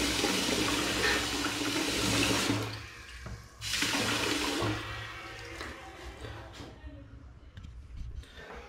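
Water rushes through the pipes of a gas water heater under repair during a leak test, a loud steady flow that pauses briefly, then resumes and tapers off, with some quiet talking.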